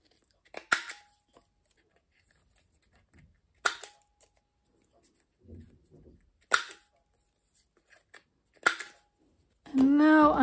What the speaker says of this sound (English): And then I am going to again cut these corners.